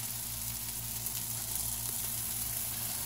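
Cauliflower patties frying in a pan, giving a steady, even hiss of sizzling oil that holds constant for the whole stretch with a low electrical hum underneath and no talking.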